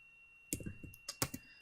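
Quick, close keystrokes on a computer keyboard as a folder name is typed, coming in short irregular clusters of crisp clicks after a brief quiet start.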